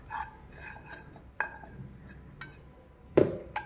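A spoon stirs ghee and maida flour in a metal pan, producing light, sporadic clinks and scrapes of utensil against pan, a few sharper knocks standing out over a quiet background.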